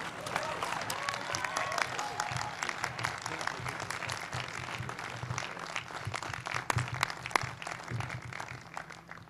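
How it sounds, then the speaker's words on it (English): Sustained audience applause follows a commencement address at the 2011 University of Idaho ceremony, steady, dense clapping from a large crowd for about nine seconds with scattered louder claps and faint background voices. "let's give him another round of applause"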